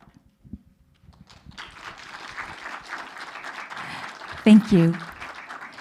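Applause and cheering from a crowd build up and hold steady, with a brief spoken phrase cutting through near the end.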